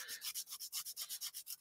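Rapid back-and-forth rubbing of drawing paper on a sanding board, about a dozen even strokes in quick rhythm, close and fairly quiet.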